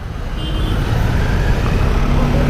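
Heavy vehicle engine rumble, likely a bus, close by in busy Indian street traffic, a loud steady low drone filling the whole stretch with no talk.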